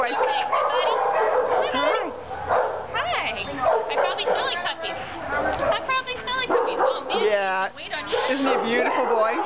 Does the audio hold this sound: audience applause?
no